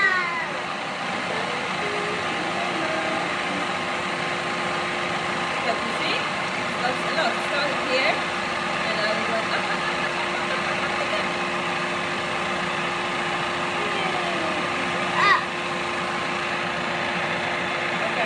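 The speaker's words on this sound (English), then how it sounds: "if you let it whiz until you get the full container full of foam" A foam-making machine whizzes steadily, a constant mid-pitched motor hum running throughout, with a voice speaking over it now and then.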